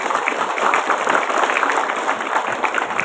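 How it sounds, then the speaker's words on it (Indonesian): Loud, dense applause from a large crowd at a school graduation ceremony, sustained and steady throughout with no talking. "Tepuk tangan untuk kalian."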